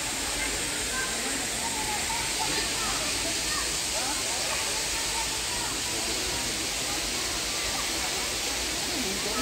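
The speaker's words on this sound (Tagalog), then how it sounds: "Ayan ang falls" Pangpang Habog Falls in Antequera pours with a constant, broad hissing roar, loud and unbroken throughout.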